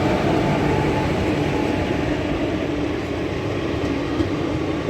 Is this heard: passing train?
yes